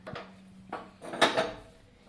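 A pot holding about two glasses of water is set on a gas stove, making a few separate metallic clunks and scrapes spaced across a short moment in a quiet kitchen, with no talking.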